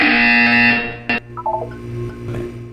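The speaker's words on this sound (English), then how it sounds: "You will hear a buzzer." A loud, harsh electronic buzzer from the game Portal 2 blares for under a second, followed by a short burst and a few descending electronic tones over a low mechanical hum.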